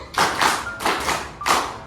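Several quick hand claps in small groups of counted claps in a primary school classroom, close and fairly loud, with short pauses between the bursts.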